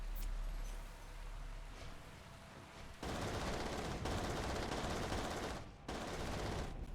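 Heavy machine gun firing in a competitive video game match, a dense rapid burst of automatic shots in sustained stretches broken by brief pauses.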